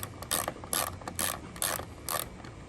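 A ratchet tightens a large bolt holding a roof rail on a Honda Pilot, producing five quick bursts of close, crisp clicking evenly spaced between short pauses.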